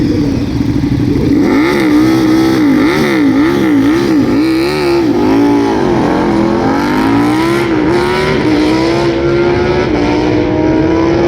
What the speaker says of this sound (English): That is a Super Duke KTM in orange going up against a Supermoto Husqvarna.